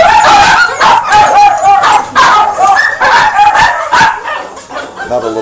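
Several Kelpie puppies at a dog pound yap and yip continuously, with high excited barks and whimpers overlapping in a loud, busy chorus throughout.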